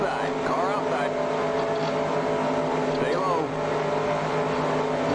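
Race car in the video game NASCAR Racing 2003, ARCA season race at a NASCAR oval, its engine note rising and shifting as it draws alongside on the outside, over a steady loud drone of other engines.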